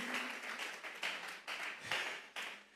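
A church congregation claims in unison as an offering of praise, with steady, fairly faint rhythmic clapping swelling in regular pulses about every half second.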